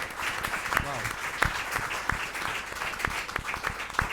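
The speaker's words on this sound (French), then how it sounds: "Est-ce qu'on peut acclamer pour faire réponse là?" Audience applause at a French-language worship gathering, a steady clatter of many hands with scattered louder claps, talk and voices mixed in underneath throughout.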